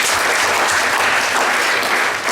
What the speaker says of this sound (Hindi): एक बार तालियां बजा दीजिए सम्मान के लिए।